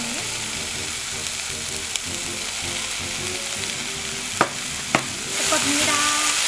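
Meat sizzles loudly in a pot, a dense, continuous frying hiss with a few sharp utensil clacks as it is stirred, the sizzle swelling louder toward the end.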